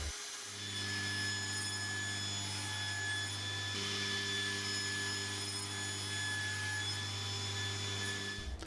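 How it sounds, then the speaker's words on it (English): A power saw cuts MDF boards down to size for router jigs in a workshop, a steady droning whir with a constant hum running unbroken for several seconds before stopping abruptly. "I start by cutting some MDF down to size to make the jigs I need for the router."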